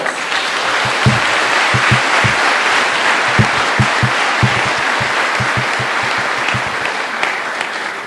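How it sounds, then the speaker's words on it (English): An audience at a school graduation ceremony applauds in a steady, loud round of clapping that lasts several seconds without pause, with no talking over it. "Let's give our parents, guardians, family members, and friends a round of applause."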